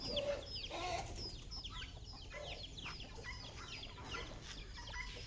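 A flock of chickens clucks and chatters continuously at moderate distance, overlapping calls over a steady background hum.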